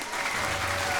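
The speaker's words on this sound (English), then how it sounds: "Clap your hands one more time into the Lord." Congregation clapping hands together during a church worship service, a dense, steady burst of applause-like clapping filling the space for about a second.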